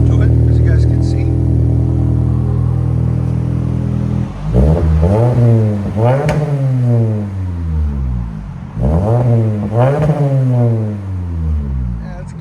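A 2024 Toyota Camry SE 2.5L with a Flowmaster Flow FX exhaust idles with a steady low drone, then gives two sharp revs that rise and fall, loud and close.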